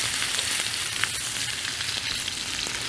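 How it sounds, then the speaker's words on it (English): A ribeye steak sizzles loudly in a very hot pan on high heat, a dense continuous hiss and crackle with tiny pops, close and steady with no talking. "So now we're gonna get this ribeye into the pan. Be careful with this because it is hot. But that is the sizzle we want."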